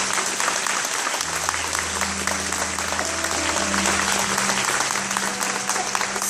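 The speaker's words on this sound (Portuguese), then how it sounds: "Vamos aplaudir a palavra de Deus." Congregation at Catholic Mass applauds steadily and loudly for several seconds, a continuous wash of clapping over a low organ-like drone.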